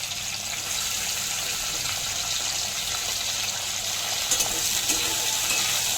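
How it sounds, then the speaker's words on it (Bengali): Okra frying in hot oil for a mixed vegetable curry, a steady, even sizzle and crackle that holds close and fairly loud throughout, with a few brief stirring clinks near the end and no voices. "4-5 মিনিট সময় ধরে ভেন্ডিগুলো খুব ভালো মতো লাল লাল করে ভেজে নিচ্ছি"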